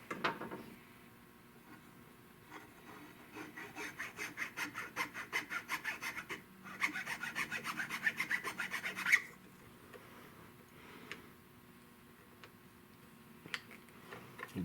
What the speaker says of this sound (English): I can do that with a file.